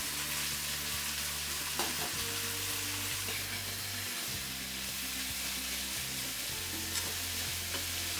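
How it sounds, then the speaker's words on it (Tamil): Onion, carrot and cabbage sauté in a hot pan with a constant close sizzle, while a spatula scrapes and stirs in repeated strokes throughout; no voices. "இது எல்லாத்தையும் கொஞ்சம் வதக்கிக்கோங்க லேசாக வதங்கினா போதும்"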